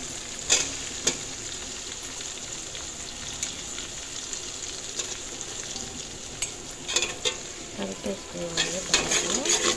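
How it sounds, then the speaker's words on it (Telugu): Ginger garlic paste sizzles steadily in a hot pan for a village-style veg biryani, with a constant frying hiss and occasional scraping clinks from stirring, louder toward the end. "ఇదిగో మనం అల్లం వెల్లుల్లి పేస్ట్ వేసుకుందాం"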